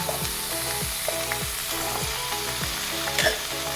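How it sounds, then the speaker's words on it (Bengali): Boiled peas and cabbage frying in a pan for a Bengali cabbage curry with atop rice, with a steady sizzle and regular rhythmic scraping strokes of a spatula stirring, no voices. "আমি সেদ্ধ করা মটরশুঁটি আর বাঁধাকপি দিয়ে দিচ্ছি"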